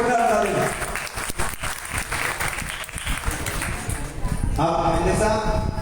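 An audience at a Meera Charitra katha gathering claps loudly and densely for several seconds, with crowd noise mixed in and a voice briefly heard at the start and end.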